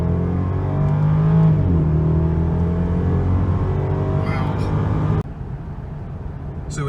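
2014 BMW 650i M Sport Coupe accelerating hard in Sport Plus mode, a strong engine drone climbing in pitch, then a sharp drop at a gearshift followed by a quieter steady hum, heard close from inside the cabin.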